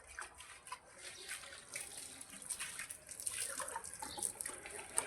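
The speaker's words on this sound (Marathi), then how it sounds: "आणि आता आपण ह्याला मस्त पाणी मारून घेऊया" Water sprays onto a car being rinsed after it was wiped clean, a steady hiss with splashy bursts that grows a little louder toward the end, close by with no talking.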